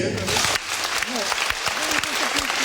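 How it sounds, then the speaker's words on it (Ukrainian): Concert audience applauding at the close of a folk ensemble's show in Ivano-Frankivsk, dense clapping with a voice speaking and calling over it. "Оплески!"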